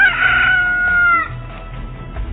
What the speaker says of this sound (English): Just then, a rooster crowed.